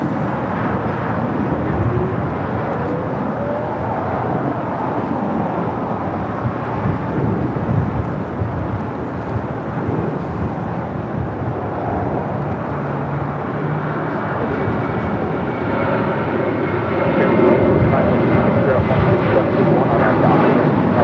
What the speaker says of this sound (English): This is American Airlines 2780 departing to Austin